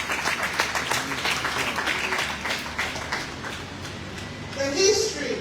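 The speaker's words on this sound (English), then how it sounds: "Let us give him a round of applause." Crowd applause at a Women in Agriculture Network event, a steady patter of many hands clapping with a voice speaking over the top and a brief louder swell near the end.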